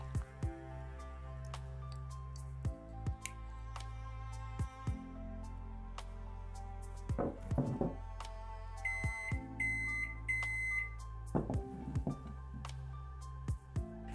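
A microwave oven melting chocolate, cream and butter gives off short electronic beeps, a few spaced bursts and one longer patterned run, over a low steady hum, with no talking.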